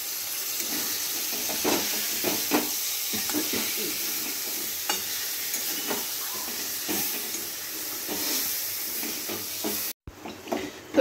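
Fried fish heads tipped with leftover oil into a hot pan in a home kitchen, giving a steady close sizzle and hiss with scraping stirs throughout.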